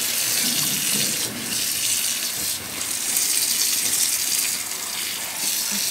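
Water runs steadily and loudly from a sink tap during wet felting, a continuous splashing rush with slight surges and no talk.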